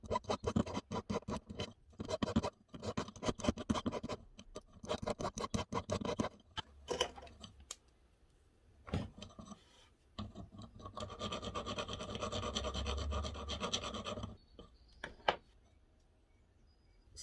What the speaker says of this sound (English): I'm just going to clean this join up a little bit, give it a bit of a file.